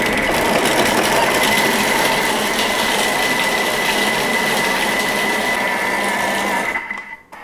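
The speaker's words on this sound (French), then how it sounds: "Je vais mélanger pendant 15 secondes à vitesse 5." A kitchen robot mixes ingredients for stuffed kale with duck and cranberries at speed 5, giving a loud, steady whirring motor drone that runs for several seconds and then cuts off.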